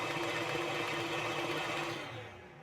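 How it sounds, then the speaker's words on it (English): A KitchenAid stand mixer whisks carrot cake batter, a steady motor whir with a rhythmic beating hum that winds down near the end, heard alone at moderate level. "We're going to come back over here to the KitchenAid. We're going to whisk this back up since it's been a bit."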